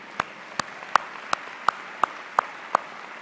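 A single pair of hands claps slowly and evenly, eight sharp claps about a third of a second apart, for student musicians at a university winter commencement ceremony; there is no talking.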